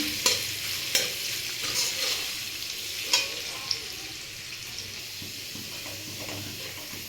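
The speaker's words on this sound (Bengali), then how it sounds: "দুটোকে একসাথে ভেজে নেব হালকা ফ্রাই করে নিচ্ছি" Chopped garlic and ginger frying lightly together in a pan, with a steady close sizzle broken by a few sharp scrapes of stirring.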